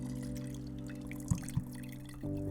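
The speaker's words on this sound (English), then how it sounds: "That's the noise of delicious red liquid going into a glass." Red wine poured into a glass close to the microphone, a steady liquid stream with tonal ringing under it, two small clinks midway and a rising pitch as the glass fills.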